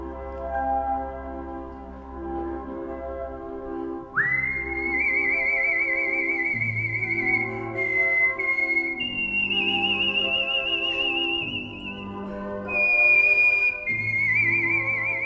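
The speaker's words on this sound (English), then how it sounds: "Here was a man who decided to dedicate his life to the art of whistling." A professional whistler performs a clear, tuneful melody of sustained and gliding notes that start partway in, then hold and shift pitch, close and prominent over a faint low background.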